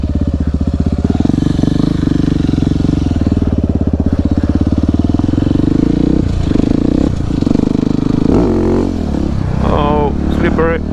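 A Husqvarna 701 700cc supermoto ridden on icy, snowy roads: a loud, close single-cylinder engine drones steadily throughout, with the revs rising and wavering toward the end.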